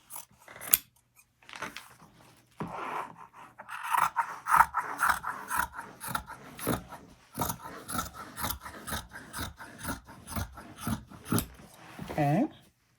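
Scissors cut fabric for a pillow cover in steady, close snips with a rasping, regular rhythm that carries on for several seconds. A voice is heard faintly in places.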